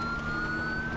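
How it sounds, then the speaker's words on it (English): A Federal Signal Smart Siren on a police car in the GTA 5 video game wails as a loud, steady tone with no break, filling the whole moment without any talk. "right now, this is the Federal Signal Smart Siren"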